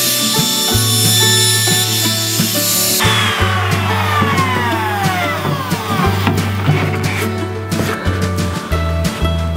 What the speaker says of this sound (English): I lowered down the table on the router so we can get a little bit of a wider chamfer going.